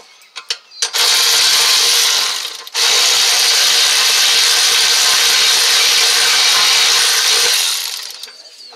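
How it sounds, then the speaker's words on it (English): A ratchet loosens the rear brake caliper mount bracket on a 2015 Acura TLX, giving loud, close, rapid clicking in two long runs separated by a brief pause, with no talking. "I'm taking off the caliber mount bracket."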